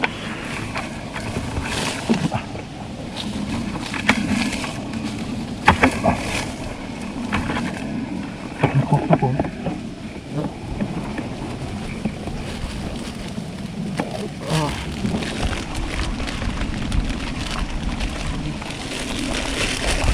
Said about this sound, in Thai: จะยินเสียงลมนะครับ ลมแรงก็ขออภัยด้วยนะครับ